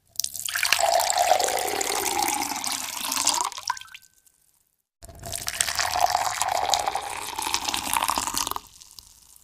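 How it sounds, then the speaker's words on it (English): Water pours steadily into a glass in two separate fills, each lasting a few seconds and separated by a short silence; the pouring is close and fairly loud, with no talking. "There is water being poured into a glass."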